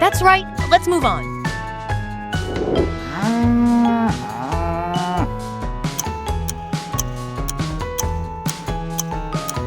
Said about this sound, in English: Cow! Well done.